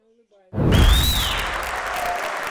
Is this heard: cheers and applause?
yes